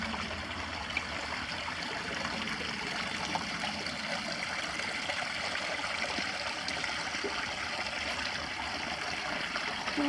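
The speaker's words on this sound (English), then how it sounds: "you're right next to this little creek" A small creek flows steadily in a soft, continuous babble of running water, fairly quiet and even throughout, with no voices.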